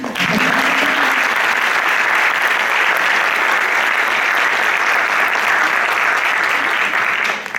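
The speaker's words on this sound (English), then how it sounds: "Clap, please." Sustained audience applause at a conference, a dense, even wash of many hands clapping that holds steady for several seconds before tapering off at the end.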